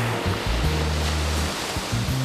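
Atlantic Ocean surf on the Outer Banks of North Carolina, a loud, continuous wash of breaking waves beneath low sustained musical tones.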